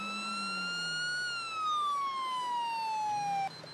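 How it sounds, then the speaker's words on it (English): Police car siren in GTA 5, a steady wailing tone sliding slowly downward, loud and close, then cutting off abruptly near the end. "We'll turn the sirens off."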